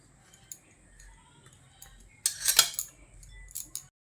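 Grated radish being scooped into a bowl in a home kitchen, with a few sharp metallic clinks of utensil against bowl and a louder cluster of scraping clatters, close and without talk.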